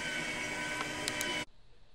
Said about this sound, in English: now here's the extruder running